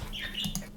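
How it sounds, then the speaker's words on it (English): Pet birds chirping indoors in a room, a few quick bright tweets and calls over a low background hum, fairly close and moderately loud. "I could not get my birds out of my room, so they're going to be joining us here as well"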